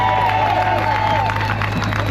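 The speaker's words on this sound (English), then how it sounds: "So I want you all to give them all a round of applause." A crowd at a protest in Dublin claps and cheers in a dense, continuous wash of applause, with a faint voice and murmur of the gathering underneath.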